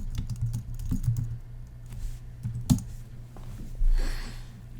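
Typing on a computer keyboard, a run of quick irregular key clicks close by, with pauses and a few louder taps, heard alone without talk.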